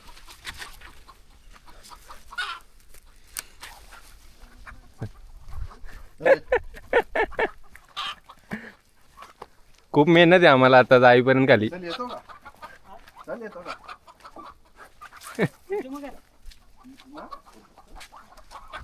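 In a village near Shahapur, hens cluck and flap in a loud burst midway while other dogs bark now and then in the background, with people talking nearby between the animal sounds.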